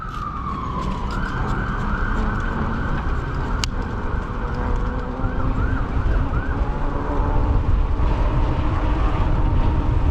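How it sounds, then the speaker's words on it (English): A police car siren wails past a rider on a 22-mile e-bike ride along city streets, its rising and falling tone loud and near over steady road and wind noise, building toward the end as it approaches. "Ambulance or something? Oh, cop car. It's coming from the other way."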